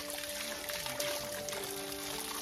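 Pure mountain mineral water pours and splashes at a monastery, a close, continuous bright rushing stream with a faint hum underneath.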